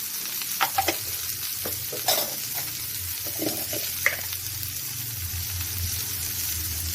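Dal sizzles softly in a pan with asafoetida and turmeric, with scattered clinks and scrapes of stirring over a steady low frying hiss.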